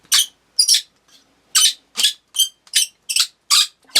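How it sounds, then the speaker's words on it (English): Repeated shrill squeaks from a radiation detector's wand probe being fitted, about ten short bursts in an uneven rhythm, close and fairly loud with nothing else heard. "Horrible squeaky noise."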